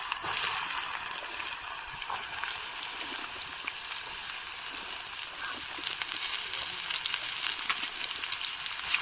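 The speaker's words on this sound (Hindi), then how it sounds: "कढ़ाई में डाल दिया है जीरा। अब डालेंगे इसमें पपीता, जो पपीता हमने काटा है।" Chopped papaya hits a wok with cumin seeds, giving a steady, bright sizzle with a faint crackle that stays even and close throughout, with no talking over it.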